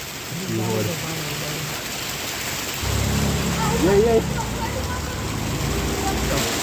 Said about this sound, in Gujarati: તો આ જાદુએ અમારી વાત ન માની એટલે એ વરસાદમાં આખો પલરી ગયો.